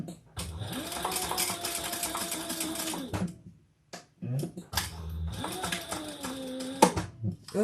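A sewing machine stitches two fabric pieces together for a shoulder bag, running in two steady whirring bursts of about three seconds each with a short pause between.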